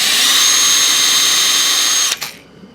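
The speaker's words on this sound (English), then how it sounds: "And then a good old 1/16 inch drill bit." A power drill spins a 1/16 inch bit into a canjo part, a loud steady high whine for about two seconds that stops abruptly with a brief clatter.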